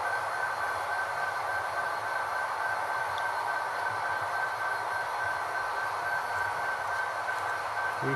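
A CSX model train runs steadily with a constant electrical hum and a faint high whine, moderately close and unbroken, with no voices.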